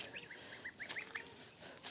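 Faint, quick series of high peeping honks from goslings in a garden, several short calls in a row against quiet outdoor background.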